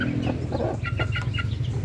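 Newly hatched chicks and chickens in a chicken yard, a low steady clucking murmur with a few high chick peeps and calls over it, close and continuous.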